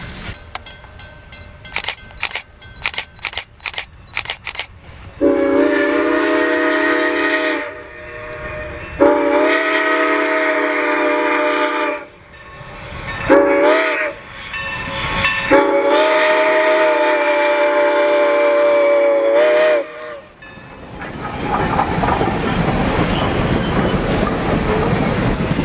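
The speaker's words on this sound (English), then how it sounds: "Listen closely as the whistle sounds tuned up from its past sound" Ringing clanks, then a steam locomotive whistle on the Strasburg Rail Road blasting repeatedly in long loud tones, followed by the rushing rumble of a train passing close.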